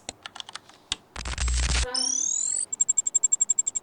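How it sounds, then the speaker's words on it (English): Synthetic interface and tech effects: scattered keyboard-like clicks, a dense burst of digital noise, a rising electronic sweep, then a quick run of evenly spaced bright beeps, all loud and close with no voices. "UI tech sound effects."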